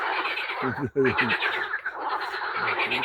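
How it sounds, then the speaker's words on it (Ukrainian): Frogs croak at a pond on a May morning, bursts of rapid rattling calls that repeat close by over a constant layer of chirping and trilling. "жабы клюють, квакають"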